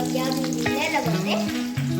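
Chillies fry with onions in a pan, giving a steady low sizzle that sits beneath louder voices or music throughout.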